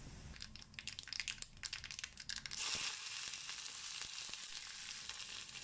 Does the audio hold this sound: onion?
yes